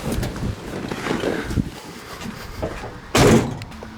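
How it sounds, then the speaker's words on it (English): Closing the steel doors of a 1969 Chevelle SS classic car, one solid heavy slam near the end after soft rustling and handling noises, with a brief low resonance following the thud. "I love the sound of the old American steel when you close those doors."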